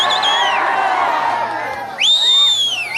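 A shrill whistle rises sharply from an audience at a live stage show in Bihar, cutting loudly over continuous crowd noise and cheering after a stretch of general hubbub.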